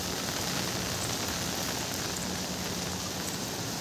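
Steady morning rain falls in a dense, even hiss, close and unbroken, with no voices.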